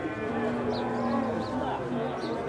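An ox lows at a busy horse fair in Campina Grande, Brazil. The single drawn-out call is faint beneath a constant wash of crowd chatter and fairground noise.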